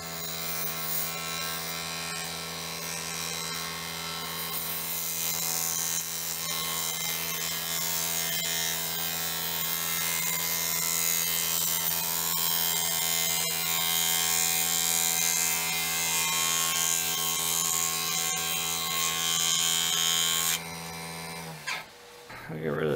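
A wood lathe spins a cedar and resin bowl with a steady whirring hum and the scraping rasp of a tool cutting, continuous and close, then winding down abruptly near the end.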